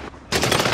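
Gunfire in the Warzone Resurgence video game on the big map: after a brief quiet moment, a loud, dense burst of rapid automatic shots erupts and keeps rattling on without a break.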